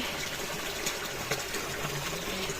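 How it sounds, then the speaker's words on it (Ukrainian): Water from a small natural spring where people collect drinking water runs in a steady, close trickling gush, continuous and fairly soft, with no voices over it. "Ось до такого джерельця у нас є."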